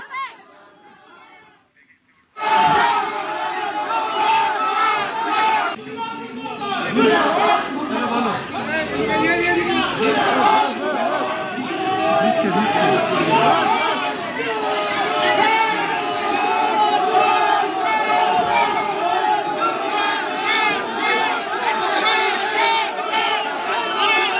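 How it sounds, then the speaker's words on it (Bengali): An agitated crowd chants 'thief, thief' slogans at the arrested Saokat Molla, a loud dense roar of shouting voices that bursts in after a brief quiet and rages on unbroken. "চোর চোর স্লোগান ওঠে"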